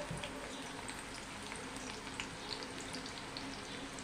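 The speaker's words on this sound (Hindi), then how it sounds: "तेल गर्म हो चुका है, अब इसी में हम प्याज डाल देंगे।" Chopped onion frying in hot oil in a pan for a bean curry, giving a soft, steady sizzle with faint scattered crackles.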